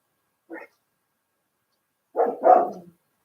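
Pet dogs barking, one short sharp bark followed after a pause by a louder double bark, close by in a quiet setting.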